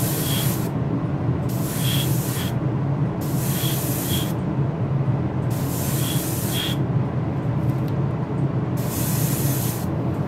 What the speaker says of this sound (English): I'm just going to do it with the airbrush so that it sort of all matches up.